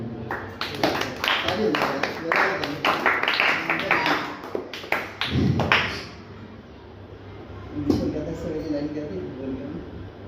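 An audience claps in brief bursts of sharp, rapid hand claps that build and then fade, followed by a few scattered claps and thuds, with talk around them.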